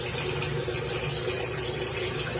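Water pours steadily into a basin being filled to rinse laundry, a continuous rushing flow with no pauses, close and fairly loud throughout.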